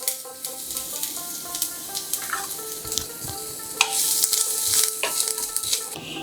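Panch phoron, a dried red chilli and finely chopped ginger sizzling in about a tablespoon of mustard oil, a continuous crackling fry with scattered pops and light stirring scrapes, close and alone.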